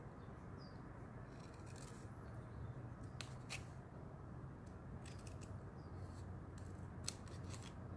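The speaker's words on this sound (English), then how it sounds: "grab your scissors and you're going to cut down each fold" Quiet, crisp snips of scissors cutting folds into a playing card for a paper pinwheel, a few sharp clicks scattered over a soft steady background hiss at close range.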